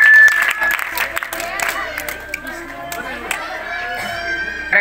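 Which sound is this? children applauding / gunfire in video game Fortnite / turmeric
children applauding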